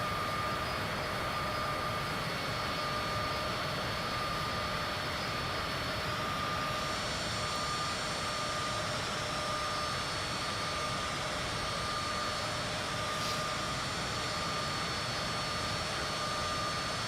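A Cessna light aircraft in Flight Simulator 2024 holds a steady, even engine drone in cruise, a constant hum with a faint tonal whine that stays unbroken and level for the whole stretch, with no talking.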